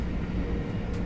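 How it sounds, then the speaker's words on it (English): In a Train Simulator game on the East Coast Main Line, a fast train roars past close by, a dense, loud rumbling rush that holds steady across the whole moment. "I reckon soon enough we're going to get a fast train whizzing past us."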